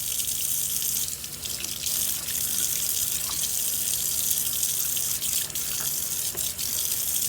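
Tap water runs steadily into a kitchen sink to rinse away a borax cleaner, a close, continuous hiss and splash with small shifts as the stream hits the surface.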